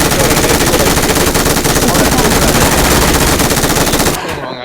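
Rapid automatic gunfire in a shooting video game, a loud, dense, unbroken stream of shots rattling for about four seconds, then stopping abruptly into a quieter tail.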